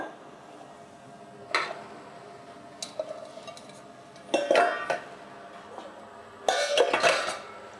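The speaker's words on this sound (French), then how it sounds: "Je mélange." Squash and shallot are stirred in a saucepan with a utensil, giving bursts of scraping and clinking against the pan, separated by quiet pauses, close and fairly loud.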